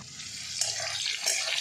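Water runs steadily from a tap as leafy greens are washed by hand in a kitchen, a close, continuous splashing hiss with brief louder spurts.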